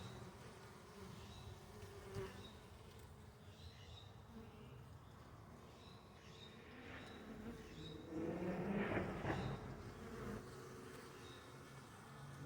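Honeybees buzzing around a beehive in February, a dense steady drone of many insects with individual bees passing close now and then, a louder swell near the end.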